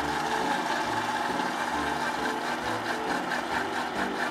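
A Tescom electric mixer whips egg whites for a Japanese cheesecake, giving a steady, close motor whir that runs unbroken with no voices.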